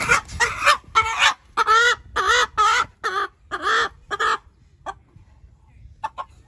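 Roosters cluck and squawk in a series of loud, rhythmic bursts, then trail off into a few softer, sparse calls.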